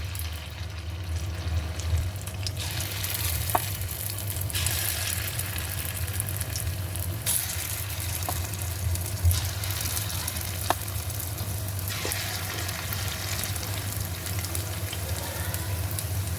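Moong dal appe batter fries in ghee in an appe pan, a steady close sizzle running throughout with a few faint clicks of utensils.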